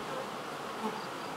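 Honey bees swarming around an open beehive, a dense, continuous buzzing hum that stays close and even throughout a short moment.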